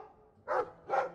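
Two short, clear dog barks from Dragon Age 2, evenly spaced and fairly close, over quiet background.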